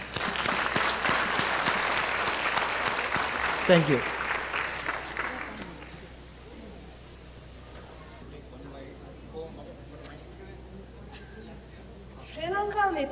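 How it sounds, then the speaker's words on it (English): Audience applause at a 25th anniversary celebration of a Sri Lanka friendship society in Waikato, a steady wash of clapping that fades after about six seconds, with brief talk over it. "please join me in giving all those involved in tonight's events a big round of applause"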